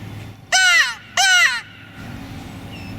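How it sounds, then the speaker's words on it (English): Crow in spring bushland giving two loud, harsh caws close by, evenly spaced, against quiet background. "That's the sound of a crow"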